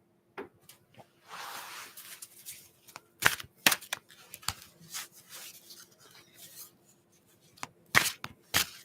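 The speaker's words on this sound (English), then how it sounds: "I'm just shuffling the cards" Tarot cards are shuffled by hand in soft, irregular riffles and rustles, close and fairly quiet, with scattered taps and clicks between the bursts.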